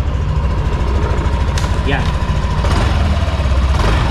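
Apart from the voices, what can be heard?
Yamaha Aerox 155 V3 scooter engine idling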